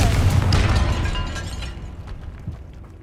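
A Confringo blasting spell in Hogwarts Legacy goes off as a loud explosive burst at the start, followed by a crackling, rumbling tail of debris that fades over a few seconds, with no voices.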